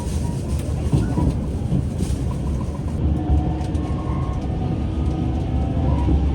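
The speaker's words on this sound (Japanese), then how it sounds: "潮風9号は時刻通りに岡山駅を出発しました。" The Shiokaze limited express, a tilting train, pulls out of Okayama Station with a steady low rumble of wheels and running gear and faint higher squeals.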